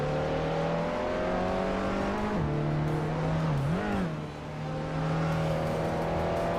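Racing car engines whine steadily through a video game race, a sustained tonal drone that shifts pitch as gears change, with a 2015 Toyota Corolla among the cars, continuous and close with no talk.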